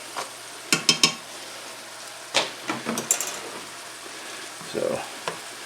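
Beaten eggs for shrimp fried rice sizzle softly in a pan while being pushed around. Scattered scrapes and clinks of a utensil come in short bursts over a faint, steady frying hiss.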